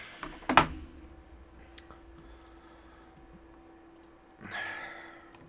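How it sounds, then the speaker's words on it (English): A computer keyboard is used during a sports trading card case break, with a couple of sharp clicks at the start and faint scattered taps over a low steady hum, then a brief rustle. "let me grab my keyboard so I can send"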